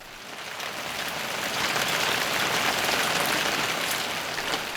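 Rain falls in a soft, continuous hiss that swells slightly and stays even, with no voices over it.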